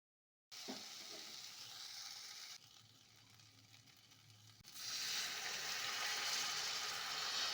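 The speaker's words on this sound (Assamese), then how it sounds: "বিলাহীৰ সৈতে আলুখিনি ভাজ খোৱাৰ পিছত অকণমান মছলা দি দিব, গৰম মছলা।" Potatoes and tomatoes sizzle steadily in a pan with garam masala while being stirred, a continuous close frying hiss that drops briefly in the middle and then returns louder and brighter, with no voices.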